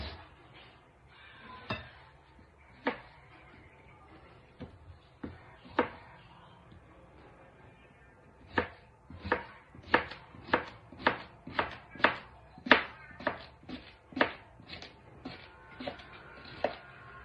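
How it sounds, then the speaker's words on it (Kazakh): A knife chops cucumber on a board for a crab salad. The cuts start as scattered single clicks, then settle into a brisk, even run of sharp taps, close and clear, with no speech. "Және де огурцемізді турайтын боламыз."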